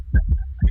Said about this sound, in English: I like the heartbeat better.